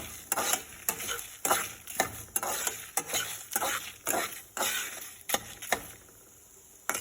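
Masala powder dry roasting in a pan for a South Indian dish gives repeated sharp scraping stirs in an irregular rhythm, close and clear, fading to a quieter hiss near the end with no voices.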